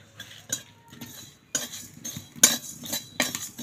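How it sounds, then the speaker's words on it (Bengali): Spices dry-roasting in a dry wok while being stirred with a metal utensil, giving soft scraping and a few sharp clinks against the pan in irregular strokes, close and fairly quiet. "শুকনো কড়াই দিয়ে একটু নাড়াচাড়া করে নেব, যতক্ষণ না গন্ধ উঠছে ততক্ষণ নেড়ে যাব।"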